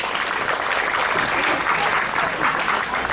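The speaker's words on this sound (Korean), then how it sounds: "여러분들 박수 좀 부탁드리겠습니다" Sustained, dense applause from a conference audience as a panel moderator is invited to the stage at a climate-focused school meals conference, steady and full throughout with no speech over it.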